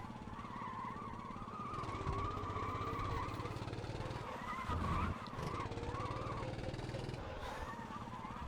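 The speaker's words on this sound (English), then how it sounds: "This really does sound like a total lawnmower engine." A buzzy small kart engine in the racing sim Automobilista drones steadily, its pitch rising and falling as it revs, with brief tire-like skids and no voices.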